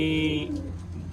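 Soft pigeon cooing, a low throaty coo close by, with a faint voice underneath at the start.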